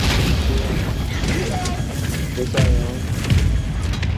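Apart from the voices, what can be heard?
mortar strike explosions in a video game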